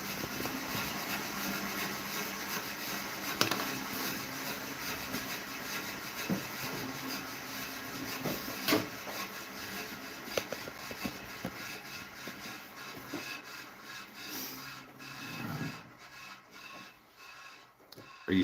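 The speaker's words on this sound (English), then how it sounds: "Sometimes you gotta use your bandsaw sideways because you don't feel like changing out a blade" A bandsaw with a 1/2 inch 3 TPI blade cuts guitar top wood, a continuous buzzing rasp with a steady machine hum that wavers as the cut progresses, close and moderately loud.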